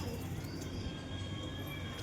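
Domestic pigeons just released from their loft coo softly nearby over a steady background murmur, with low throaty calls repeating.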